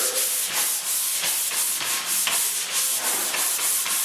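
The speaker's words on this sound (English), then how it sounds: "You don't want to sand too much and take too much mud off the nail, and it will leave an indent." Drywall joint compound over nails being hand sanded, a close, steady scratchy rasp in quick back-and-forth strokes about twice a second, with no talking.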